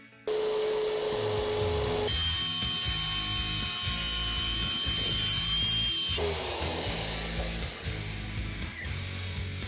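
A power saw whines steadily while cutting wood, its pitch shifting between passes, with a rapid rattling rhythm running underneath throughout.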